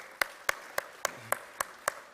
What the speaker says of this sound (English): So I would like to just give him a little round of applause